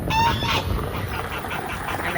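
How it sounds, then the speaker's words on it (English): A goose on a farm gives a quick series of loud, close alarm honks at the start, followed by softer repeated calls over steady outdoor background. "the goose is sounding the alarm"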